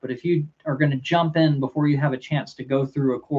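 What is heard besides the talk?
No everyday noises stand out.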